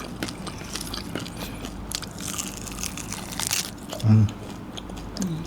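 Someone bites into crunchy salted native chicken, giving crisp crunching and chewing sounds close to the mouth, with one sharp louder crunch near the end amid light background chatter.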